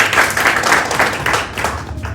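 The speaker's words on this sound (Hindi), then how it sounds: "जोरदार तालियां बनती है।" Loud audience applause fills an indoor presentation hall, a dense, steady patter of many hands clapping close by throughout, with no talk over it.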